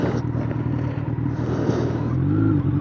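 Kawasaki Z900 inline-four motorcycle engine running steadily with a low, even drone that rises slightly near the end, heard close with no talking.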